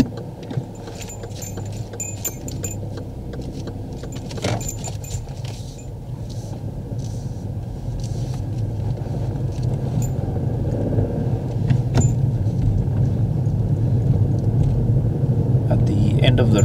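A learner driver's car pulls away during a driving test, its engine a steady low rumble that gradually grows louder over about seventeen seconds, with a few sharp clicks and rattles inside the cabin.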